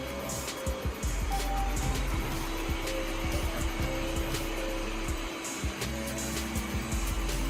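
A Yeedi Vac 2 Pro robot vacuum runs at its maximum suction setting, giving a steady, loud, close-up whirring drone that holds throughout with small fluctuations.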